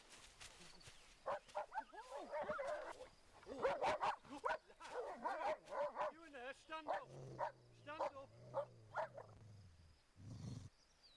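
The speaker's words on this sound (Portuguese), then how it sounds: "Os pastores alemães arriscam suas vidas rotineiramente como cães policiais." A German shepherd police dog barks during routine tracking training, with sharp repeated barks and yips scattered through the clip beneath continuous spoken narration.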